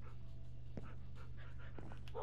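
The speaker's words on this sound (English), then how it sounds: "Dude, I think your dogs are hungry." Dogs panting in the video game Minecraft, quick rhythmic breathy huffs with a few soft whimpers, faint and close over a steady low hum.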